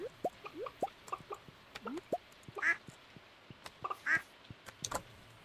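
Ducks in the Stardew Valley video game give a scattering of short, clipped quacks and blips at an irregular pace, joined by a few soft plopping game sounds, fairly faint with no talking.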